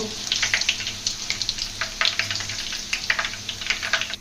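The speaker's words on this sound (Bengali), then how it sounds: "তেলটা গরম হয়ে গেছে অনেকটা, এখন আমি মিষ্টিগুলো এর ভিতরে ভেজে নেব" Potato kalojam sweets frying in hot oil, a close, busy crackle of popping bubbles and spatters over a low steady hum, continuous and lively with no voices.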